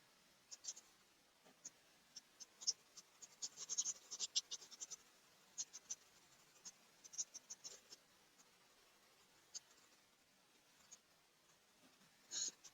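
Handwriting produces a series of soft, scratchy pen strokes in short, irregular bursts with brief pauses between words, close and quiet in an otherwise still room.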